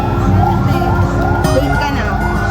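A fire truck's wailing siren rises and falls steadily over loud street noise and chatter in Lobo, Batangas, sounding fairly close.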